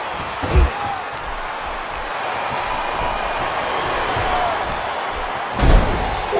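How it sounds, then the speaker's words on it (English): Wrestling match slam, a body driven face-first onto the canvas: two loud thuds, one near the start and one near the end, over steady arena crowd noise. "Slams his face into the canvas"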